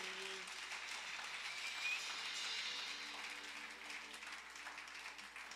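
A church congregation applauds and cheers in a continuous, fairly quiet wash of clapping.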